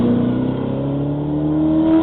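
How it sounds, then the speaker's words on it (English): A cheap little car with loud aftermarket exhaust pipes revs steadily, its droning engine note climbing slightly in pitch. The exhaust stays loud and continuous throughout, with no talking. "He's got nothing better to do than show off his cheap little car"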